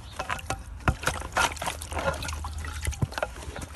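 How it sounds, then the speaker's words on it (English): Water splashes and trickles while a dirty Henry vacuum filter is rinsed in a container, giving irregular close dribbles, drips and sloshes with a few sharper knocks. "Got some water here, see if we can give it a bit of a clean."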